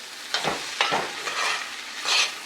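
A sweet mixture caramelizing in a pot is stirred with a few scraping strokes over a soft frying sizzle, close and moderately loud, with no talking.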